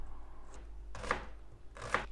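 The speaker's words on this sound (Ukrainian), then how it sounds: "Нарізаємо цибульку невеличкими кубиками." Two crisp knife strokes dicing an onion into small cubes on a cutting board, spaced about a second apart, quiet and close with no talking.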